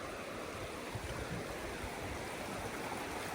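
Clear stream water flows steadily and evenly in a broad, continuous rush with no voices, heard at close range in a natural outdoor spot.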